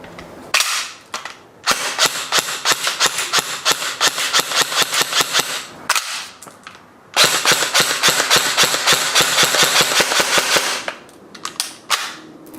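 An LCT LK53 airsoft gun's gearbox motor whirs and cycles in rapid bursts, loud and close: long strings of sharp mechanical clacks with brief pauses, then a few slower single shots at the end.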